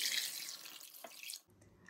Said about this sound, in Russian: Мясо закладываю в кастрюлю и заливаю его холодной водой.